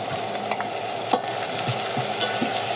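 Onion, green chili and ginger-garlic paste frying in a pan for khichuri, a steady close sizzle with occasional soft clicks from stirring.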